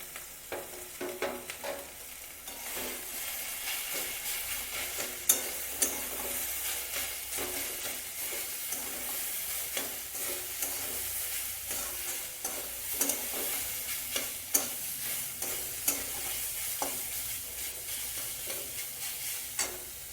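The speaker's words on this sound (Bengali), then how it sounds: "এবার যে শাকটা সেদ্ধ করে রেখেছিলাম সেই শাকটা এবারে দিয়ে দেবো।" Boiled bathua greens fry and sizzle in a pan with a steady crackling hiss, while frequent scraping stirs and small knocks sound close up throughout, with no voices.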